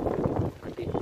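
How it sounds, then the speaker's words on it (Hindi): Strong wind buffets the microphone outdoors, a continuous low rumbling roar that fills the whole moment with uneven gusting surges. "काफ़ी तेज़ हवा चल रही है"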